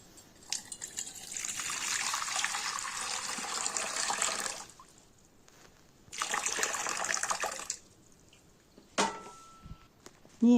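Water is poured into a bowl of tamarind for fuchka water in a home kitchen, two sustained splashing pours of several seconds each separated by a pause, close and fairly loud, followed by a brief clink.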